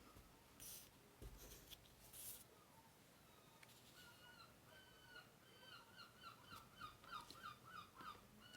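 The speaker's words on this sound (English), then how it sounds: "You can hear the seagulls today." Seagulls call repeatedly in the distance on the coast, a series of harsh, rhythmic cries building in the second half, with some scratchy rustling near the start.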